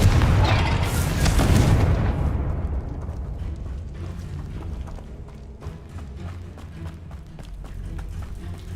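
A fiery spell blast from the Hogwarts Legacy game booms loudly in the opening two seconds, then rolls into a long crackling, rumbling decay of debris and embers.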